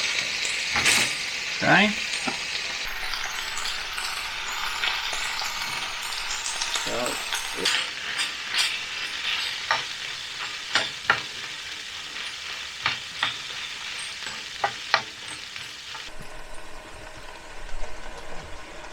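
Food sizzles and fries steadily in a pan on a home kitchen stove, with clinks and scraping stirs over the top and a brief word spoken once.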